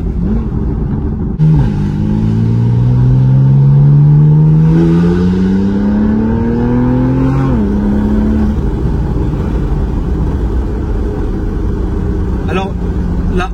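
A car's engine climbs steadily in pitch as it accelerates hard, with a gear change midway and a second rising pull, loud and close from inside the cabin.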